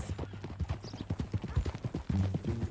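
Horse hooves in the video game Red Dead Redemption 2: a quick, close run of clip-clop hoofbeats in uneven rhythm, ending with a short snort or whinny-like sound.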